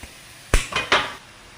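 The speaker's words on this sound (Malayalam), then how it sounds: "ഊറ്റി വേവിച്ചൊക്കെ വെച്ചിരുന്ന കപ്പ ഇതാ അങ്ങോട്ട് ഇട്ട് കൊടുക്കുവാണേ" Boiled, drained tapioca is tipped into a cooking pan, giving three sharp clattering thuds in quick succession, close and fairly loud, then quiet.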